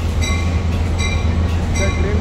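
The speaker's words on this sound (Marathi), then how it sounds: "हॅरी पॉटरची ट्रेन आली." A passenger train rumbles close by with a steady low mechanical drone, faint rhythmic wheel clicks and thin squealing tones over it, continuous and loud throughout.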